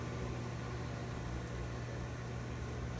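A food dehydrator hums steadily with a low motor drone and airy fan whoosh, constant and unchanging, fairly quiet and close.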